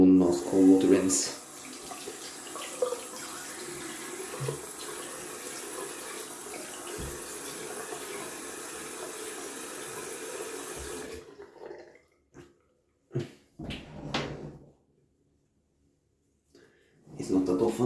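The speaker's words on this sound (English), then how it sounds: "And one last cold water rinse." Cold water runs steadily from a tap into a sink for about eleven seconds during a wet shave rinse, then cuts off, leaving a few brief splashes and handling noises nearby.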